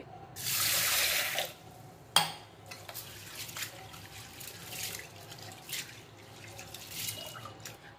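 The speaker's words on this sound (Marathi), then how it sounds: "एक वाटी डाळ आहे, ती स्वच्छ धुवून घ्यायची" A bowl of lentils is rinsed under a running tap in a pressure cooker, with a loud gush of water for about a second, then a sharp clink and quieter splashing and dripping.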